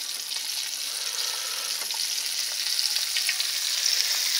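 Battered mountain oysters fry in hot grease in a cast iron pan, giving a steady, close hiss and crackle of bubbling oil that holds throughout with small pops.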